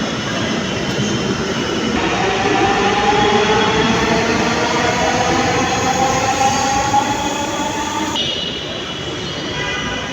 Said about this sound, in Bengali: এই তো মতিঝিল লাইনের মেট্রো রেল চলে আসছে